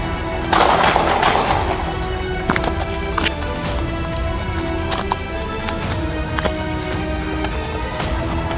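Rapid gunfire during a police shootout with a suspect, a dense burst of loud cracks at first and then scattered sharp shots over a steady background of noise and commotion.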